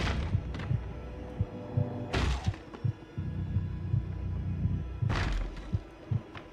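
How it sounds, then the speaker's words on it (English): A heartbeat sound effect from The Outlast Trials horror video game thumps in a steady, rapid low pulse under a droning ambience, with bursts of broadband noise cutting in twice. "if you hear my heartbeat beating faster"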